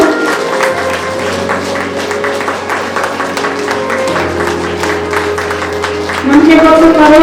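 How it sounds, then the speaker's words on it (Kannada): Loud audience clapping at a Parvati Pyramid seventh-anniversary gathering in Ballari, a steady wash of claps over a droning hum for about six seconds before a louder voice cuts in near the end. "ಜೋರಾದ ಚಪ್ಪಾಳೆ."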